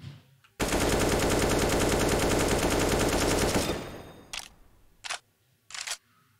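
Sustained automatic gunfire rattles for about three seconds in Battlefield 4, a rapid loud continuous burst that cuts off, followed by three short separate bursts.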